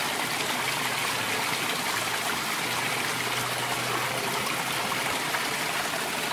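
Mountain stream water rushing steadily and close by while someone collects it, a continuous bright gurgling wash with no pauses.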